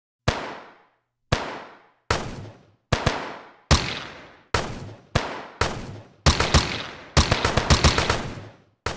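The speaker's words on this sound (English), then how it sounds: "we could have three gunshot sounds" A series of sharp, loud video game gunshot sound effects, about a dozen, spaced apart at first and then coming faster in rapid bursts, each ringing out briefly.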